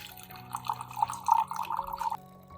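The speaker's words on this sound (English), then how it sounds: "Pour about 5 centimeters of water into the jar." Water is poured into a glass jar, a short run of close, bubbling gurgles and splashes lasting under two seconds before stopping.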